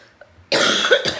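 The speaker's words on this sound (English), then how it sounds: "still got the cough" A single harsh cough, loud and close, followed by a short second hack right after.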